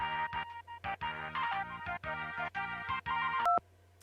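Telephone ringing for an incoming call comes as a rapid sequence of short electronic tone bursts with brief gaps, fairly quiet and alone, ending in a higher sustained beep.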